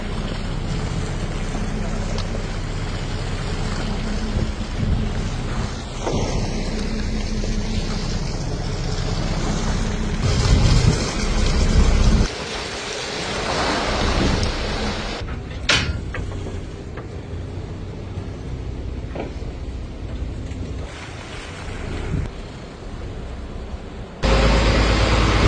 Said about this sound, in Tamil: இந்த டைம் சரியான மழைங்க.